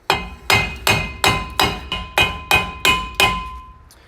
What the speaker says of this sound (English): tap it in to kind of seat that seal